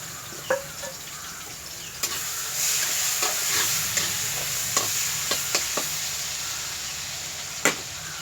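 Chopped onion frying with black cumin in hot oil gives a steady sizzle, broken by a few sharp utensil clicks and scrapes as it is stirred.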